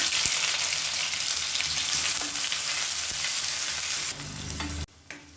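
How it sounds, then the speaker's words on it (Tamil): A handful of long-sliced large onions fry in hot oil for a potato and pea kurma, a close, bright continuous sizzle with a few stirring scrapes that cuts off abruptly near the end. "இப்போ எண்ணெய் நல்லா சூடானதும் அதில் ஒரு கைப்பிடி அளவுக்கு பெரிய வெங்காயம் நீளமான சேர்த்துக்கலாம்."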